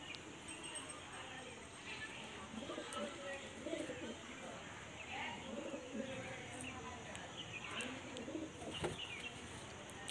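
Several running pigeons coo in soft, repeated low rolls throughout, under a constant noisy background with occasional brief knocks and faint chirps.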